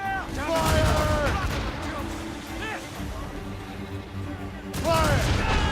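A ship's cannon volley in Assassin's Creed Rogue erupts as rolling booms and crackling blasts, loud and overlapping, swelling again near the end, while shouting voices ring out between the shots.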